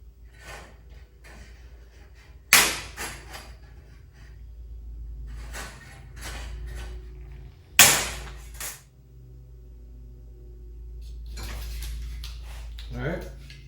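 Tin snips clip the first couple of teeth off a saw blade for a collapsible hiking bow saw, giving two sharp, loud snaps several seconds apart over a quiet room, with a few smaller handling clicks around them.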